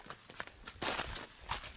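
Horse hooves clip-clop on the ground in an uneven series of light knocks, close by and fairly faint, with a high whine hanging in the background.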